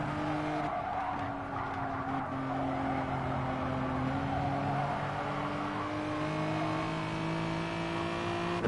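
Race cars including a Mustang in Gran Turismo Sport, a touring car race at Autopolis, with steady engine drones and tire squeal as one car slides its tail, continuous and fairly loud without talk.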